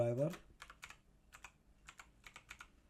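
Computer keyboard typing while searching online: short bursts of crisp key clicks in an uneven rhythm, close and fairly quiet, with a brief voice at the start.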